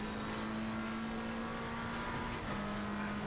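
McLaren 720S GT3 race car engine in Assetto Corsa Competizione at Indianapolis, a loud sustained engine drone at steady revs with a slight pitch dip near the end, heard close with no voices.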